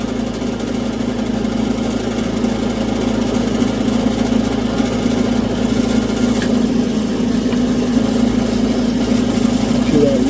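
Lapidary grinding wheel shaping the bevel of a heart-shaped cabochon, a steady motorized drone with the stone worked back and forth along the wheel's edge, continuous and fairly loud.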